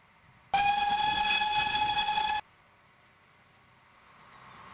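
A narrow gauge heritage steam locomotive on the Vale of Rheidol Railway blows one long, loud, steady whistle blast, then cuts off, leaving quiet rumbling railway ambience.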